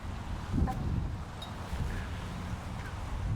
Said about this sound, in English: ooh, got some wind